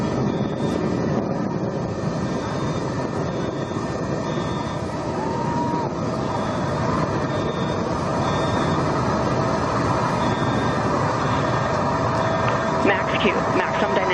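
Rocket engines roaring at full throttle during a launch climbing through supersonic speed, a loud continuous rumble with a steady tone riding on top, unbroken throughout.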